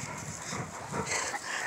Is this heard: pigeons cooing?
no